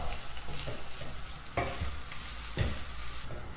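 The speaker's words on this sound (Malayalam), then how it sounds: "ഇനി തേങ്ങ ഒന്ന് ഗോൾഡൻ ബ്രൗൺ കളർ ആകുന്നതുവരെ നമുക്ക് ഇളക്കി കൊടുക്കാം." Grated coconut is stirred and roasted in a pan over a low flame for Sadya kootu curry, with a soft, constant sizzle and scraping spoon strokes, two of them sharper and louder, and no talking.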